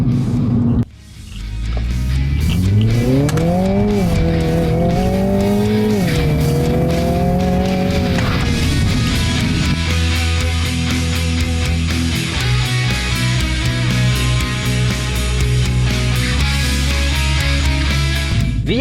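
A Mini John Cooper Works GP with an 8-speed automatic revs and pulls away, its exhaust rising in pitch through the gears, then settles into a steady loud drone, close and continuous without talk.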